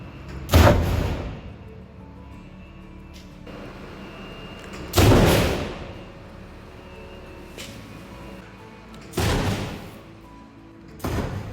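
Several sharp gas explosions in a demonstration model, about four seconds apart, each a loud whooshing bang that rings out and fades, with quiet between them.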